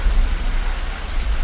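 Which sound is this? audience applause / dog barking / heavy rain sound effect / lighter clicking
heavy rain sound effect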